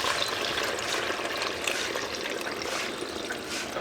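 Water runs steadily into a cooking pot in a home kitchen, a continuous close splashing rush with no voices over it.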